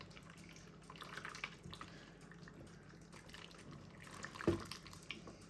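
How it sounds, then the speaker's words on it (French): Leftover broth is poured over sliced seitan in a container, a faint liquid trickle with soft drips and a brief splash near the end, heard alone in a quiet kitchen. "Et là, j'ai mon restant de bouillon que je vais verser directement dedans."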